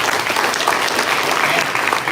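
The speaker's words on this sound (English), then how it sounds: "So, please give us a big round of applause." Workshop audience giving a round of applause in a hall, dense sustained clapping throughout, loud and even, with no gaps.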